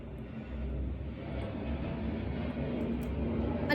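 An airplane flies overhead in Boudha, Kathmandu, as a steady, broad engine roar. It holds at a constant level and builds slightly toward the end, with no talk.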